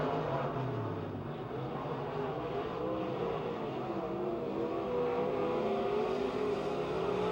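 Race cars roar around the Pennsylvania Motor Speedway near Pittsburgh, a continuous blended engine drone from several cars at moderate distance, pitch shifting slightly as they circle, with no voices.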